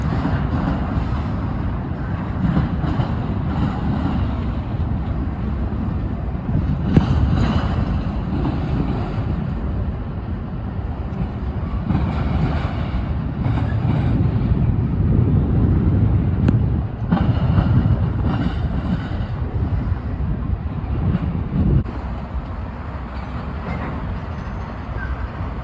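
BNSF special locomotives passing on the railroad: a continuous loud rumble of engines and rolling cars, steady throughout with slight rises and falls.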